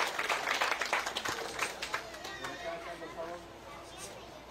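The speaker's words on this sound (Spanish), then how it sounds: "Por favor, fuerte los aplausos también para nuestro querido delegado de la prefectura de" An audience applauds a prefecture delegate from Pichincha at a community road inauguration, with dense clapping that is strongest at the start and gradually thins out, while voices and crowd chatter continue underneath.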